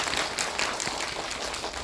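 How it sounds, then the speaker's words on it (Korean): Audience applause at a community event of the 2024 Busan International Film Festival, steady dense clapping from a crowd filling the whole short stretch at moderate level, with no voices on top. "박수 한번 좀 부탁드릴게요"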